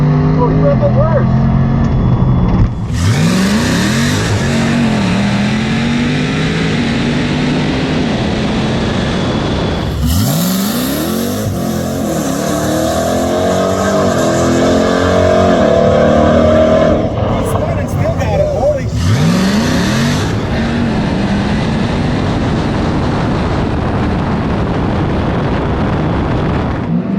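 Drag race cars launch hard and roar down the strip in bursts of loud engine noise, with a Tesla Plaid, a nitrous 280ZX, a Hellcat Cuda and a ZL1 in the lineup, while people talk over the runs.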